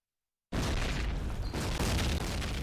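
A grenade blows up in a competitive team shooter match: a loud, close boom bursts in after a half-second of silence, then rumbles on as a dense, roaring blast for about two seconds.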